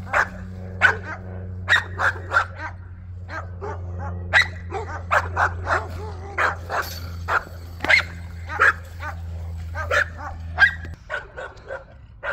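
Several dogs kept outdoors in a small town bark and yip repeatedly near a field, sharp overlapping barks in irregular bursts over a steady low hum, fairly close and loud.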